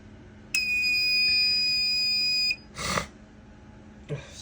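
A fire alarm demo system gives one loud, steady electronic tone for about two seconds before cutting off, followed by a couple of short clatters nearby.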